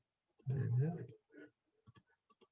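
A computer mouse double-clicks during UI design work: a few quick, faint clicks in pairs after a stretch of speech.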